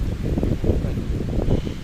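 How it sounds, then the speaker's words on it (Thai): Strong wind gusts buffet the microphone at a mangrove forest park in Phuket, a steady low roaring rumble with rustling throughout and no voices. "โอเคค่ะลมแรงมาก ลมแรงมากค่ะทุกคน ลมแรงเกินเนาะ"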